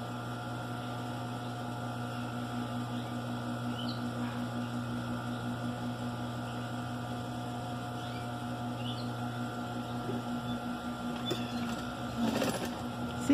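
A sewing machine stitches fabric for a patchwork rug with tulip blocks, its motor giving a steady, even hum throughout, with a few light clicks and rattles near the end.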